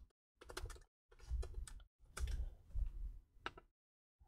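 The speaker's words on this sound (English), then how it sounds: "Next, you type in your new password," Someone types a new password on a computer keyboard: several close, crisp runs of keystrokes broken by short pauses, with no talking.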